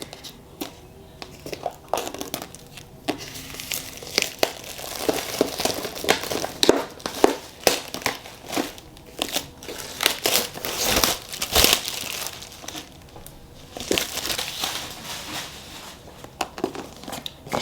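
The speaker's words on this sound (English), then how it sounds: "love to take off fresh plastic" Close, crinkly rustling and crackling of plastic wrap being peeled off a new iPad, in irregular bursts with short pauses between.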